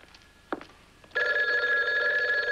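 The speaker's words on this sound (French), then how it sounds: "Allez-vous décrocher le téléphone?" A telephone bell rings loudly and continuously indoors in a 1970s-style drama scene, a steady sustained trill that starts abruptly after a brief clatter and quiet background.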